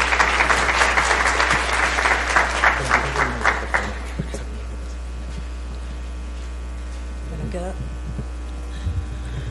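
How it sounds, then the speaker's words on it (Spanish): A lecture audience gives a warm round of clapping to welcome a speaker on epigenetics and chronic disease, over a steady electrical hum. The applause is dense at first, then thins out and fades, leaving faint room noise and a brief voice. "La recibimos con fuertes aplausos, por favor."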